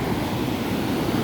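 Swollen river in flood, spilling toward its banks: a dense, steady rush of churning water, loud and close, continuous for the whole moment with no voices.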